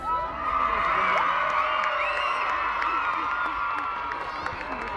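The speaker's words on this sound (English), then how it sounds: "this is to be the loudest cheer of all" A large gala day crowd, many of them children, lets out a sustained loud cheer with whoops and shouts that fills the whole stretch at steady volume.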